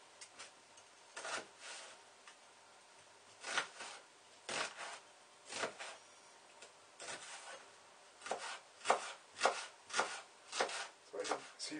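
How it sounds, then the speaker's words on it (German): A sharp kitchen knife cuts through a peeled onion on a cutting board in a home kitchen, giving a series of crisp, irregular chopping taps and scrapes, close and fairly quiet, that come faster toward the end. "Wenn das Messer schön scharf ist, dann verliert man jetzt nicht so viel Saft durchs Drücken, sondern es schneidet mehr durch das Fruchtfleisch."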